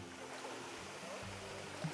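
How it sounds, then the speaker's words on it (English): Small waterfall spilling into a freshwater pool on Koh Kut, Thailand, a steady broadband rush of falling water filling the scene close by without a break. "So here is the waterfall."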